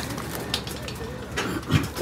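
Soft cooing of pigeons or doves close by, low repeated coos against a noisy background with some rustling and movement.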